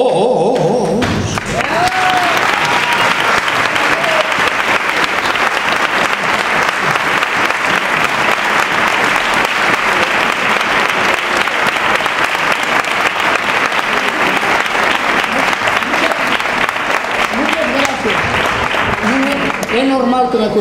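An audience at a Christmas gathering in Grau applauds loudly and steadily for about twenty seconds, a dense wash of clapping with a few voices near the end.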